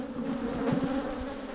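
Honey bees from a very small nucleus colony buzz in a steady low drone, several insects humming close by with slight swells in loudness and no voices.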